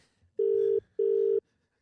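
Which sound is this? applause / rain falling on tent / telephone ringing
telephone ringing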